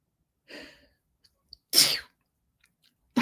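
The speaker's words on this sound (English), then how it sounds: "Oh my God, I have to sneeze." A single sharp sneeze bursts out alone in a quiet room during a live stream, preceded by a short breathy intake and followed by a brief snuffle.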